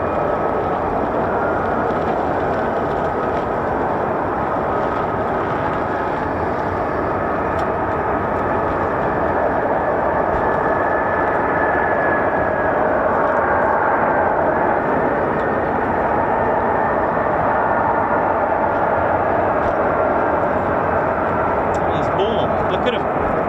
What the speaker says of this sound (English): Sounds are going to get louder now as they taxi down the Warrior Walk.